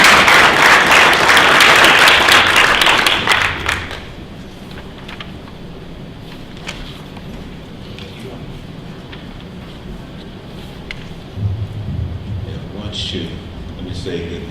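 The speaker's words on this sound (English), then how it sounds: "Let's give them a round of applause as they come." Dense audience applause at a lobby day gathering for arriving representatives, loud for a few seconds and then stopping abruptly, followed by a quiet room with faint murmurs.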